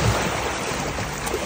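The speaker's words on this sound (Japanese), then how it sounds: "波が高い" Rough sea waves surging steadily close by while fishing for rockfish at the shore, a continuous broadband wash with some wind buffeting and no voices.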